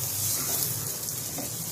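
Garlic and onion frying in a pan for pansit, a steady close hissing sizzle with no talk.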